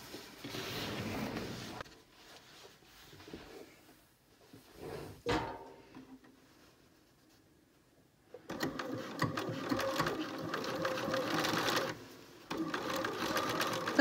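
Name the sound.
sewing machine stitching a seam on dress trousers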